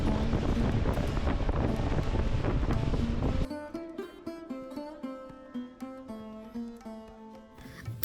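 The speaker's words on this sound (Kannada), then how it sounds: "ಫತೇ ಸಾಗರ್ನಲ್ಲಿ ನೀವು ಕೂಡ ಸ್ಪೀಡ್ ಬೋಟ್ ರೈಡ್ನ ಎಕ್ಸ್ಪೀರಿಯನ್ಸ್ ಮಾಡ್ಬೋದು" Speed boat ride on Fateh Sagar lake: loud roaring wind buffeting and rushing water for about three seconds, then abruptly replaced by music.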